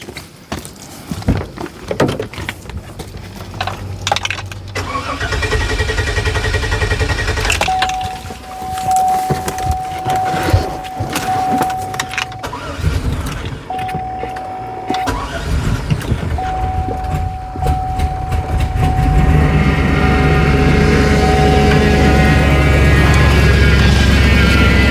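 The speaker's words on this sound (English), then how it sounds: "you can tell from the sound it hasn't been started in a while" A Hummer that has sat unused for a while starts after a jump from a portable jump starter: cranking and catching, then a rough, loud engine idle with a steady whine, running continuously and growing stronger toward the end.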